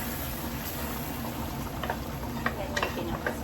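Sauce being poured into a cooking pot gives a soft, low liquid bubbling and sizzling bed, with a few brief splashes and drips in the second half; quiet overall.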